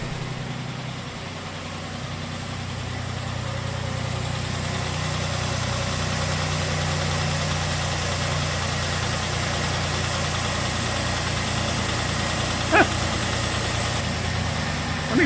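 A Ram 1500 engine with about 98,000 miles, reported to have run low on oil, idles steadily and up close for the whole stretch with a low, even hum and faint knocking vibration, plus a brief click near the end and no talking.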